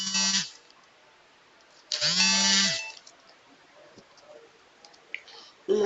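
A phone buzzes in vibrate mode during repeated incoming calls, giving several loud, close bursts of steady buzzing separated by quieter gaps.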